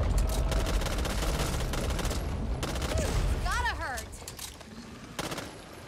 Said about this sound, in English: Okay, I'm shooting it.